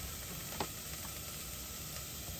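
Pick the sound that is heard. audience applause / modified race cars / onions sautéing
onions sautéing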